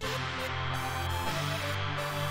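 A dry synth pad with no reverb plays sustained chords alone, with a chord change partway through.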